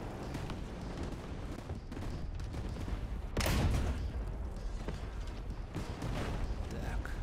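An artillery shell explodes in a tank video game with a loud, sharp boom partway through. Scattered gunfire and background battle noise surround it, and someone talks over the action.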